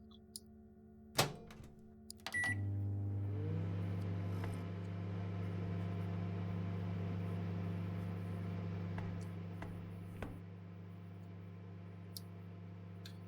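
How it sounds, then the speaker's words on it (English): A microwave oven in the Verde Station game switches on with a thunk, then settles into a steady, loud low hum that runs unbroken to the end, with a few faint ticks along the way. "Let's put one in the microwave."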